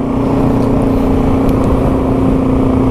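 Yamaha TW200 dual sport motorcycle riding on a Lake Superior ice road at about 18 mph. The single-cylinder engine gives a loud, steady drone close up, holding a constant pitch throughout.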